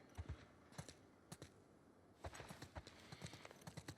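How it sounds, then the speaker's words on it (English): Horse hooves clip-clop in The Last of Us Part II, a series of faint, close hoof knocks at an uneven walking pace that becomes a steadier, quicker patter in the second half. "Let's get back to the horses."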